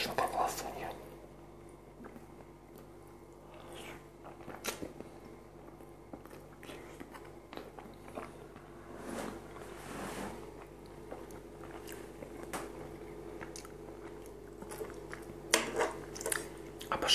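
Close-up ASMR eating of fried sunny-side-up eggs with soy sauce: soft, wet chewing, bites and squishy mouth sounds, with occasional utensil clicks, under quiet whispered talk.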